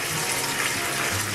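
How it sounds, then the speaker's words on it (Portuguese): Deionized water gushes steadily into a bucket, a continuous loud close pour with no pauses, during a partial water change of about 25 litres. "isso aqui é a água deionizada, a água já pronta, vamos colocar aqui, ó"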